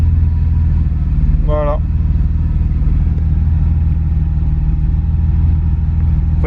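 A BMW E30 with a swapped-in M50 engine idles steadily up close, its low, even rumble running throughout as a voice speaks briefly over it.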